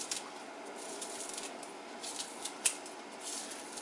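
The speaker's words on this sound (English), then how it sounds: "I like to cut mine with scissors." Scissors snip through vegetable scraps for homemade turkey stock, giving a few soft, close crunchy cuts with one sharper snap near the end and no talking.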